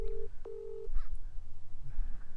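A phone dials to call someone, giving two short electronic tones followed by faint clicks and handling noises, with a low background rumble.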